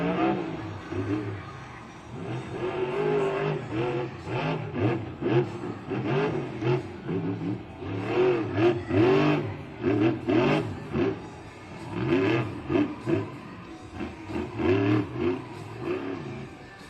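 Monster truck engines roar and rev at a Monster Jam stadium event in Atlanta, with loud, surging throttle bursts rising and falling over a dense crowd and arena din throughout.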